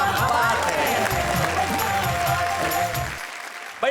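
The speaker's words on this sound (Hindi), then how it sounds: "जरा तालियां बजाइए" Studio audience at a Hindi comedy poetry show applauds and laughs in a steady, dense wash of clapping and crowd noise that fades out near the end.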